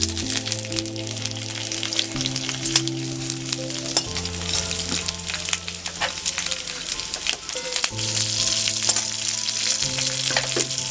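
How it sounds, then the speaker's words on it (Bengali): New-season Chandramukhi potatoes fry with salt in hot oil, a loud, steady sizzle crackling throughout with scattered spatter pops, while a low droning hum shifts beneath it. "হলুদ দেবো না, শুধু নুন দিয়েই ভেজে নেবো আলু।"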